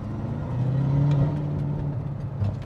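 A wrecked Audi R8 engine revving up in third gear at low road speed: a steady, close, deep rumbling drone that swells slightly as it pulls, loud and without voices.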